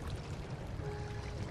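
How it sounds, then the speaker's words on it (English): Steady rushing water of a waterfall in the Minecraft video game, a continuous broad wash of sound without pauses, fairly loud and close. "Waterfall."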